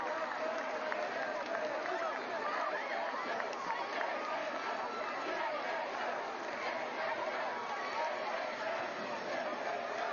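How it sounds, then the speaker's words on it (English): A high school football crowd at a Friday night rivalry game between James Island and Wando in Charleston, heard as a steady, distant roar of voices and chatter without clear rhythmic chanting. "when you hear the crowd chant his name as they carry him off"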